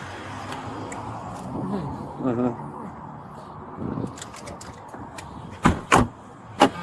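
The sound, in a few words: car door closing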